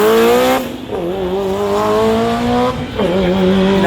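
A fully built Mitsubishi Evo launches down a quarter-mile drag strip, its engine roaring loud and near with rising revs broken by sharp gear shifts.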